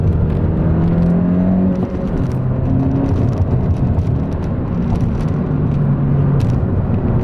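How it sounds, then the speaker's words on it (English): Honda Civic Si FK8 accelerating hard in second gear with brief wheel spin: a loud continuous engine drone with a rising whir and faint tyre noise heard from inside the car. "Okay, a little wheel spin in second."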